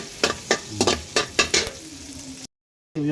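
Onion, garlic and ginger sizzle in a hot pan for pork dinuguan, with about six sharp, close stirring scrapes over a steady frying hiss before a short break.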